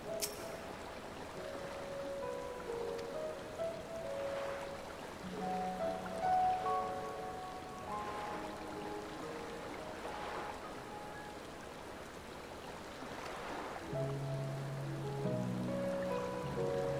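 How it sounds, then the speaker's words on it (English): Steady rain patters throughout over a soft bed of sustained musical tones that shift and layer, with the hiss holding at an even level from start to finish. "Raining."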